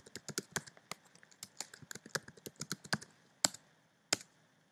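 Someone types a password on a computer keyboard while installing CentOS in VirtualBox on a Mac, producing a quick, irregular run of close, crisp key clicks with a few sharper, louder taps near the end.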